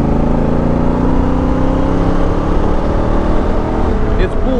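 A Honda Africa Twin Adventure motorcycle pulls hard in fourth gear on the road, its engine droning loud and steady with rising tones under rushing wind, heard from the rider's position.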